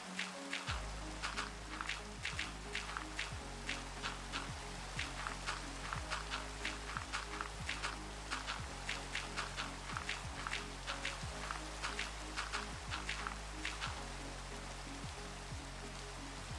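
Minecraft rain falls in a steady, soft patter of drops on surfaces, continuous and even throughout with a low background hum, and no voices.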